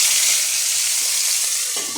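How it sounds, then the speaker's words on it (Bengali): Fish frying in hot oil in a wok, giving a loud, steady, close sizzle that holds for the whole stretch, with a few clinks near the end. "মাছগুলো আমি একটু লাল লাল করে ভেজে নেবো, একটু কড়া করে ভাজবো"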